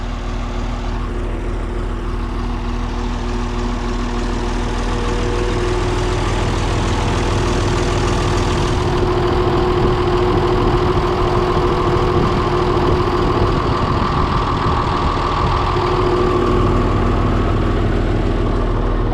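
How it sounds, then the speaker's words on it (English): An Oliver tractor engine idles with a muffler fitted, a steady, loud, low rumble running without a break. "Now I can retry my little experiment with Herman and the different mufflers"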